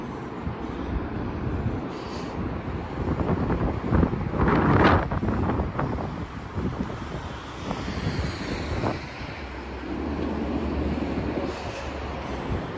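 Cold, gusty wind buffets the microphone outdoors in a steady low rumble, swelling into stronger gusts midway before settling back to a constant whoosh.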